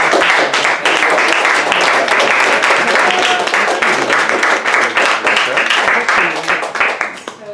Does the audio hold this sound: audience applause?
yes